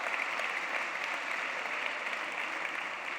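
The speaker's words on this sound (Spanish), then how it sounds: "También un aplauso para los hermanos de la Edad de Oro." A church congregation applauds its elderly Golden Age members, a soft, steady patter of clapping that sounds somewhat distant and even throughout.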